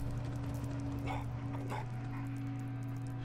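A dog in the Fallout 4 video game gives a couple of short barks, moderately loud over a steady low electrical hum in the game's background.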